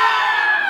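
Voices in a live storytelling performance mimic fleeing ogres, a short, dense burst of yelling and shrieking that sounds like a crowd of shouting people, loud and steady throughout.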